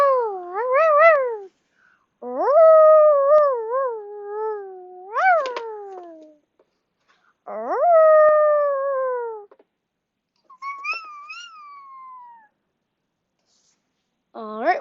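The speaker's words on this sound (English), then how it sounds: "Just gotta wait for that howl." Howling from a pack of wolves or dogs: several long, rising and falling howls come in separate overlapping bursts with short pauses between them, loud and close, with no talking.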